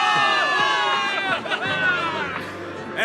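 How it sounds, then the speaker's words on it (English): A crowd in a video game cheers and shouts for a victory, a loud burst of voices and whoops rising together and fading over a few seconds. "Give it up for yourselves, soldiers! Cheer for victory!"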